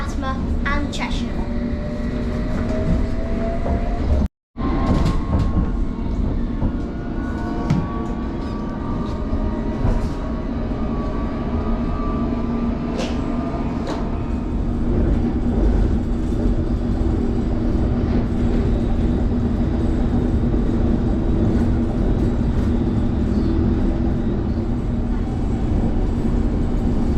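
A London Underground Metropolitan line train runs between Chalfont & Latimer and Chesham, a steady loud rumble of wheels and motor with rising whine tones, a brief dropout early on, continuous throughout.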